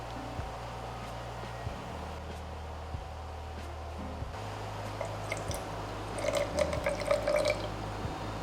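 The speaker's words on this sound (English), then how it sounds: "measure 25 milliliters of room temperature water, pour it into the mixer with the glue" Room temperature water poured into a mixer holding glue for a Nickelodeon Super Slime Studio kit, a soft liquid trickle and drips over a steady low mechanical hum, growing a little busier toward the end.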